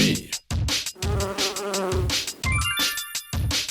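A buzzing bee imitated inside a children's animal song, its drone sounding in bursts between rhythmic musical notes, with no speech.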